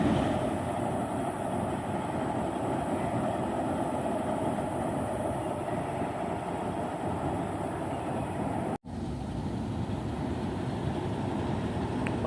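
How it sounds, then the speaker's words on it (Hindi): A locomotive, HPU20 8054, moves onto a railway turntable with a steady, low rumbling drone, followed by a brief cut and then a continued quieter hum. "आप देख सकते हैं पूरा लोकोमोटिव टर्न टेबल के ऊपर आ गया हुआ है।"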